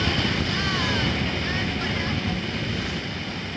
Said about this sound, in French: Il y a un gros moteur sur cet avion, donc ça monte bien.